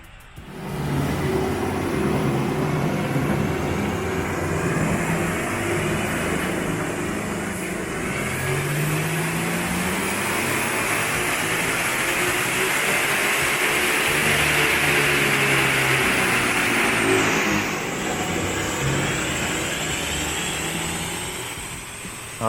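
A Porsche Macan with an aftermarket intake system roars through a full dyno pull, its engine note climbing steadily in pitch and loudness. It cuts off abruptly near the end, then drops to a lower drone as it winds down.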